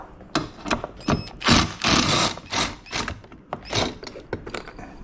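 A ratchet with a long Allen socket working the inner fairing support screws on a Harley-Davidson Street Glide, sounding as close, loud bursts of rapid clicking separated by short pauses.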